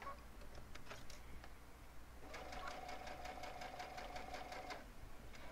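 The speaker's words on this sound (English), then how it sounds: "I'm just going to start sewing, and I'm going to backstitch here just to tack it" A sewing machine backstitches and sews binding onto Cuddle Minky fabric. A quiet, rapid mechanical rattle runs for a couple of seconds over a low steady hum, with a few faint taps before it starts.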